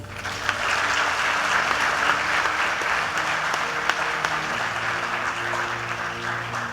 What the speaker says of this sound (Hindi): तालियां नहीं हो सकती?